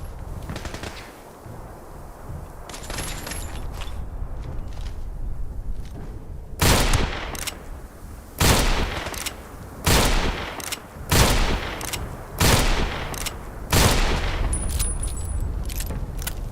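Gunfire in Fallout 76 arrives as a series of sharp, loud bursts spaced a second or two apart, with a quieter stretch before them and a constant low ambient hum underneath.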